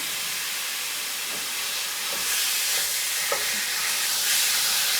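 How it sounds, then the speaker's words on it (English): Meat for a chili browns in an already hot pan while being broken up, giving a loud, even frying hiss with a few soft scraping knocks from the utensil. "I am throwing it into the pan. It's already hot. And then I'm just going to break it up a little bit and start it browning."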